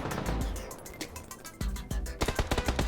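Rapid bursts of PUBG gunfire crackle in quick succession, loud and dense, with heavier booming shots near the end.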